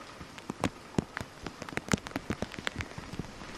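Heavy rain falling in Cuttack, a dense patter of raindrops with scattered louder splashes hitting nearby surfaces, steady and close with no talk.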